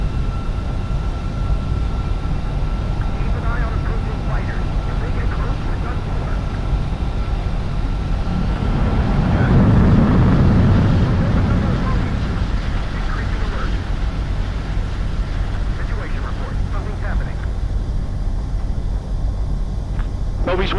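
Jet aircraft engine roar during a takeoff in Ace Combat 7: Skies Unknown: a steady low rumble that swells loudest around the middle, then settles back to a constant drone.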